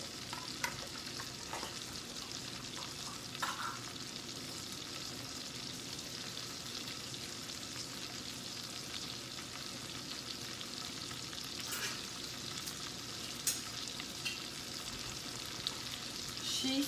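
Peppers fry in a pan with a steady, moderate sizzle that runs throughout, broken by a few brief stirring scrapes and clinks and no talking.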